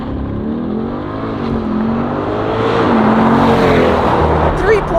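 A sports car, a C8 Corvette or 2020 Mustang Shelby GT500, accelerates hard from 0 to 60, its engine note climbing and roaring louder over several seconds, heard from inside with a brief voice underneath.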